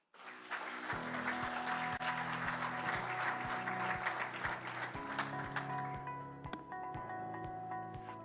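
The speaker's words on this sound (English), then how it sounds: "Remember what I said about keeping the applause going?" Steady audience applause at a government technology conference as a speaker is welcomed to the stage: a full, even patter of many clapping hands runs throughout over a soft sustained music bed, with little talking.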